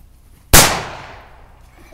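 A single close, loud gunshot goes off during target shooting: a sharp crack followed by an echoing tail that fades over about a second.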